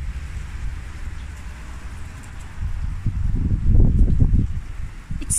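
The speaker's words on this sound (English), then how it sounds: "Guys, the wind is heavy crazy today" Strong, heavy wind outdoors buffeting the microphone as a low, steady roar that swells louder in gusts toward the end, with no one talking.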